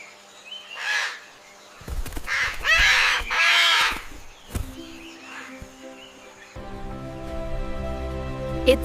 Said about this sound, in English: It's a parrot.